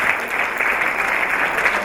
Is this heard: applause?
yes